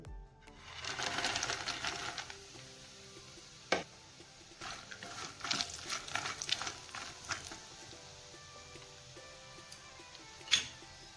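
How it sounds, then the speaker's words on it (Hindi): Makhana (fox nuts) roast and are stirred in leftover ghee in a pan, making a busy, rattling, ticking clatter in uneven bursts with a few sharp knocks, up close over faint background music. "अब इस बचे हुए घी में हम मखाने को भी भून लेंगे।"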